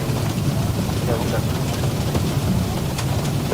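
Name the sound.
rain effect in X-Plane 12 flight simulator video game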